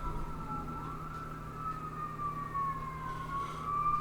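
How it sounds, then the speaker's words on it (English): Wailing emergency sirens rise and fall continuously, somewhat distant, over a low steady rumble of traffic. "the sirens are going off."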